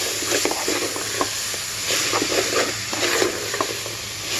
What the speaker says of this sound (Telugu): ఈ విధంగా ఆయిల్లో వేగనివ్వాలి